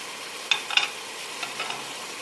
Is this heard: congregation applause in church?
no